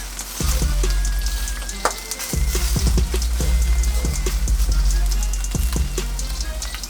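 Sausages and sugar-glazed ham sizzle loudly in a pan for an Irish breakfast, a constant crackling fry broken by repeated low knocks as the pieces are moved and turned.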